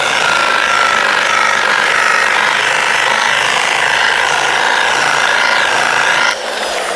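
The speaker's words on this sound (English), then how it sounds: "With your polisher." An electric polisher buffing a fibreglass panel on a 1976 Reliant Robin van gives a loud, steady whirring drone that holds evenly throughout, then drops slightly as it eases off near the end, with no talking.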